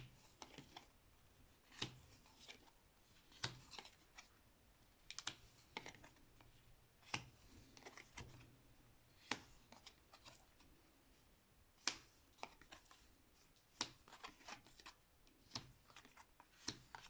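Tarot cards being shuffled during a reading, giving a steady series of sharp, crisp slaps and flicks at irregular short intervals, fairly quiet against a soft background with no talking.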